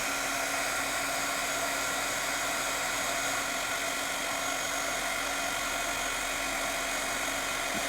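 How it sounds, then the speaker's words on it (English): Heat embossing tool blowing hot air to melt sparkly embossing powder on a handmade baby card, a continuous loud, even whirring hiss with no pauses. "Because this one is sparkly, I'm going to heat it from behind first so that all the sparkles don't fly off."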